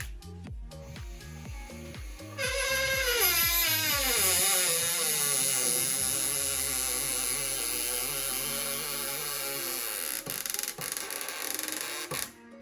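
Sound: cordless screwdriver drilling

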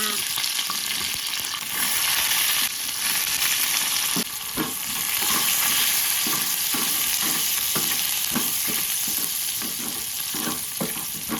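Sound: frying garlic in oil

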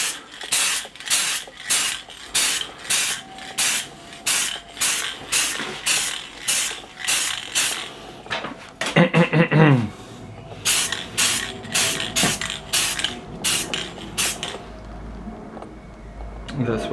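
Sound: spray paint can spraying

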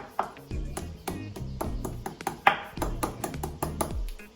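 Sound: pounding lemongrass to crack it

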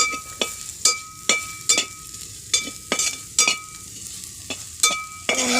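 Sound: stirring crushed dried fish with chili powder in a pan

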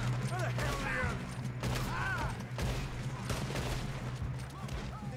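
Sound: gunfire in Red Dead Redemption 2 video game

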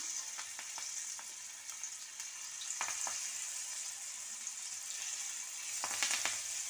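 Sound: banana flower vadas frying in hot oil

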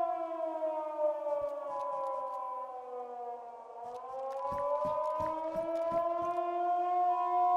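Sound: air raid siren in video game

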